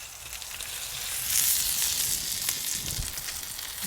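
Tomahawk ribeye steaks searing on a Kamado Joe soapstone grill give a loud, continuous bright sizzle and crackle that swells and holds steady, close up with no talk.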